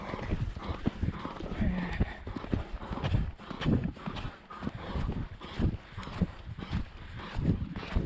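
Rhythmic hoofbeats of a horse cantering during a riding lesson, thudding in a steady repeating pattern, fairly close, with some wind and faint background noise.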